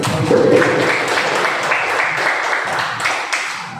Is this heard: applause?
yes